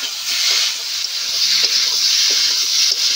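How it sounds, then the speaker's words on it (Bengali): Mustard and poppy seed paste being stirred and fried in a pan for a Bengali fish curry with ridge gourd and potato, a loud, close, steady hiss and sizzle broken by occasional scraping strokes. "সর্ষে আর পোস্তটা একটু ভালো করে কষে নেব"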